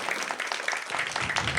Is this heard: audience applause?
yes